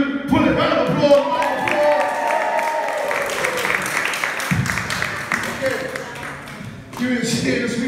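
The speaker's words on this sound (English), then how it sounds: "Round of applause" Applause from a live audience after a stage performance, a sustained wash of clapping that swells and fades, mixed with crowd noise and a voice talking over it throughout.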